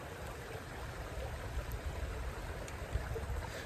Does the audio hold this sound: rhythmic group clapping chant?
no